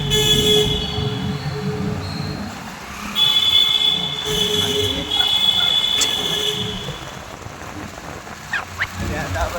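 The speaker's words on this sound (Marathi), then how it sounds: "ट्रेनचा आवाज बघू शकता मित्रांनो." A train passes close by with rail rumble and wheel noise, and a long steady horn blast sounds partway through amid outdoor ambience near a creek.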